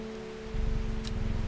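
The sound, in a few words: rain falling in the video game Strange Horticulture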